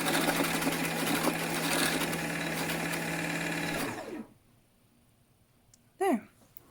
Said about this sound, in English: it's in bobbin winding mode, and then you just press on the pedal